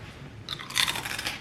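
Someone bites into a small crunchy snack and chews it, a few crisp close crunches after a moment of near silence.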